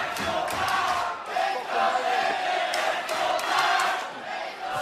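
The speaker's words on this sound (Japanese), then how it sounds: "2人に対する声援が場内交錯しております" Dense wrestling arena crowd at a New Japan Pro-Wrestling match between Pac and Prince Devitt, loud and continuous with surging cheers and overlapping chants of both wrestlers' names.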